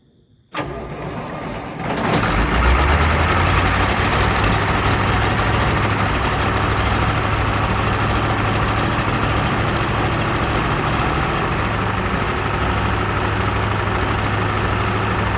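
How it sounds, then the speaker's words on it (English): A Massey Ferguson 1800 tractor engine cranks and catches after a brief pause, then settles into a steady, loud, continuous idle with a deep low rumble, heard close and alone. "I have already warmed this tractor up, so hey, if it's going to start, it's going to start"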